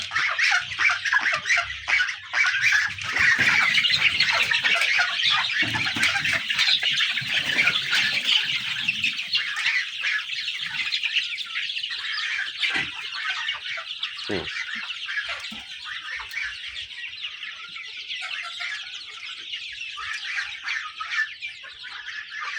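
Sonali, Fayoumi and desi chickens squawk and cluck together in a dense, continuous flock din, loud and close throughout with no talk.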